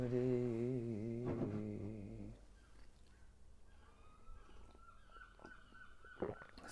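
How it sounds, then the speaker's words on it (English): Seagulls let out loud, wavering honking calls close by for about two seconds. Quieter background sounds follow, with a few faint thumps. "Except for our seagulls."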